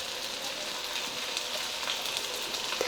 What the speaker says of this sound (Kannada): ಆದಷ್ಟು ಲೋ ಟು ಮೀಡಿಯಮ್ ಫ್ಲೇಮಲ್ಲಿ ಇಟ್ಕೊಂಡು ಫ್ರೈ ಮಾಡ್ಕೊಳ್ರಿ